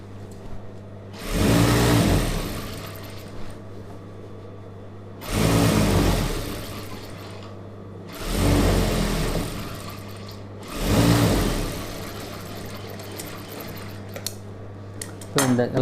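An electric sewing machine stitching a thin folded hem on a star-neck chudidhar top runs in four loud bursts of a few seconds each, with quieter pauses between.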